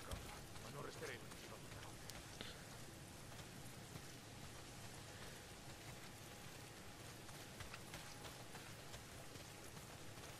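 Steady rain falling in the video game Days Gone, a constant dense hiss of drops on surfaces, faint and even throughout, with speech quietly mixed underneath.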